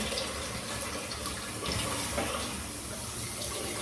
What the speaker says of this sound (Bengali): এবার দিয়ে দিলাম গরম জল